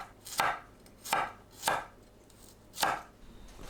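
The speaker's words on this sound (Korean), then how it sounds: "마늘을 편으로 썰어주세요." Garlic cloves being sliced thin with a knife on a cutting board: four crisp, close chopping strikes at an uneven pace, with a short pause before the last cut.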